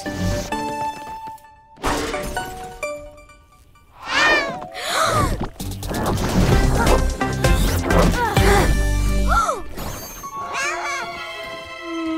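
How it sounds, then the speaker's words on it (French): A cartoon cat's meows in a French animated action series, rising and falling meow calls that come in bursts among crashes, thuds, music and lively voices in a busy, loud scene. "ce mignon petit chat a un mignon petit collier, exactement comme Super Miaouteuse avait."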